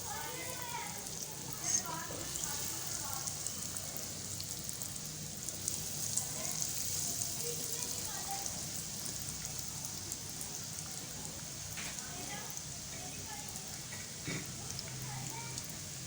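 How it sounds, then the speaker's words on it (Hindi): Potato egg balls fry in ghee over a low stove flame, giving a steady, rain-like hissing sizzle with faint crackles throughout, and a voice may be faintly present. "अब हम इसको फ्राई करने लगे हैं"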